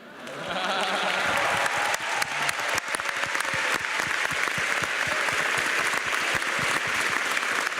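Sustained applause from an audience sending off graduates at a business school celebration ceremony, a dense, steady wash of many hands clapping that swells in after a moment and continues evenly throughout.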